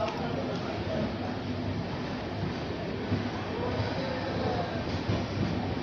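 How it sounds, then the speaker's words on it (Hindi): A passenger train pulls out of Ara Junction station with a steady, dense rumble and rattle of wheels and carriages that carries on for the whole stretch without a break. "ट्रेन का डिपार्चर हो चुका है।"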